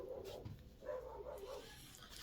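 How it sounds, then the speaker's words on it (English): A small anxious dog barks and whimpers in a few short, high, excited bursts indoors, fairly faint and close, with no talking over it. "And my dog's going ballistic."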